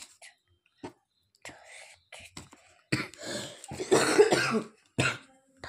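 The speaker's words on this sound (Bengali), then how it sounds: "দেখছো কাশি হচ্ছে সমানে।" Someone with a cold coughs repeatedly, several short harsh bursts spaced apart, with a louder cluster of coughs and throat noise near the end, close to the microphone.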